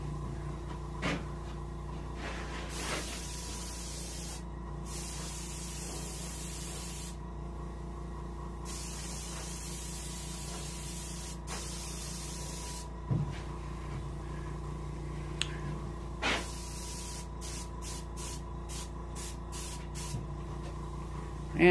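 Airbrush spray painting an Arctic char for taxidermy, a soft hiss in repeated bursts of varying length, close and quiet, with a faint hum underneath.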